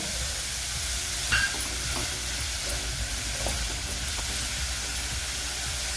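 Finely chopped onions and green chillies frying in a pan, a dense continuous hiss and sizzle with a few faint clicks and stirring taps, close and steady, no talking.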